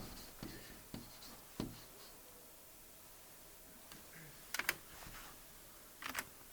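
Marker or pen strokes writing out an exponential equation on a board during a math lesson, a few short scratchy bursts scattered across quiet stretches, soft and fairly close, with no talking.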